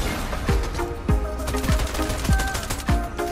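Pistol fire in the video game Fortnite, five sharp evenly spaced shots about half a second apart, loud and close, with no talk.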